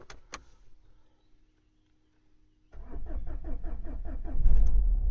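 A Renault Dacia with a 1.5 dCi diesel engine that misfires when cold starts from cold. A couple of sharp clicks come first, then a pause before the starter cranks in a quick rhythmic series and the engine catches into a loud, rough idle.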